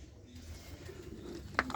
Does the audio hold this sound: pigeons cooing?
yes